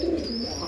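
Pigeons coo at a small pigeon farm where the birds are kept caged, giving a short, close, throaty coo.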